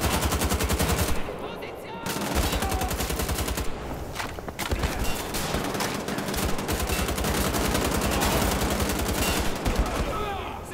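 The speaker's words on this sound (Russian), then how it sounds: "Я сказал, хватит, твою мать, стрелять." Rapid automatic gunfire rattles in a Wolfenstein: The Old Blood firefight. Loud bursts repeat for several seconds, broken by brief pauses, with sharper single shots mixed in and a voice occasionally audible underneath.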